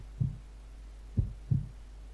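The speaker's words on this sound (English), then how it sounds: "I can still hear the heartbeats." A heartbeat from the video game Dreamy Rainbow 2 thuds three times as deep, muffled pulses, the first alone, then a closer pair, over a low steady hum.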